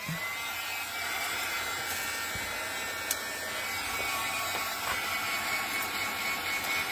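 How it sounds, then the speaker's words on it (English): A handheld heat gun drying wet white paint dots on paper at a craft table, its steady high-pitched fan whoosh running continuously and fairly loud, with a small click partway through and no speech. "I need to grab the heat gun. Okay, I apologize, it's gonna be noisy."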